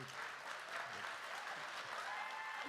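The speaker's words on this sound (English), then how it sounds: "Just stay quiet while the audience is clapping" Steady applause from a Minecon Earth audience fills the whole stretch, a dense continuous patter of clapping at moderate distance with no voices over it.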